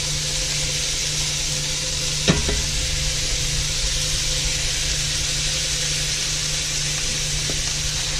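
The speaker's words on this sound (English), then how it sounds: "we're going to take our hamburger meat and sit it in there and start browning it" Steady, continuous sizzling of ground beef browning in a hot cast iron skillet, with a brief clatter partway through and a low hum underneath; no talking.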